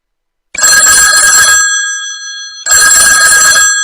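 A phone's test ringtone rings very loudly in two bright, bell-like bursts, each about a second long, with a short silence between them and no talking.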